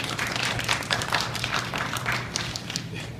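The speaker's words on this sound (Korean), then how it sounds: "다시 한번 박수 부탁드리겠습니다" Congregation clapping in a church service hall, a moderate burst of many hands with uneven, slightly scattered claps that continues steadily before thinning out.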